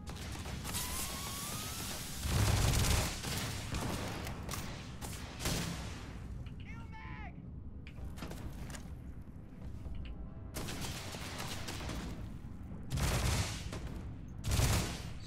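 Bursts of gunfire in the space game Starfield sound in a dark, cramped corner: several loud volleys and clusters of shots, with quieter stretches between them that hold mechanical clicks and whirs.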